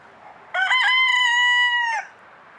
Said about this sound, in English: Yeah, the rooster does crow a lot.